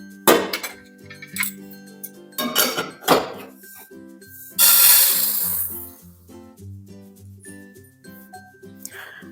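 Roasted sesame seeds go from the pan into a metal vessel: a few sharp metallic clinks, then a loud rushing pour of seeds a few seconds in, with softer scrapes and taps afterward over faint background music.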